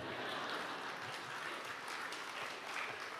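Steady applause from a church congregation during a Pentecost sermon fills the whole stretch, a dense even patter of many hands clapping, with no talking.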